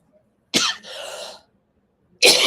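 A person coughs in two harsh, close bursts with a brief pause between, the second fit starting near the end; no other sound around them.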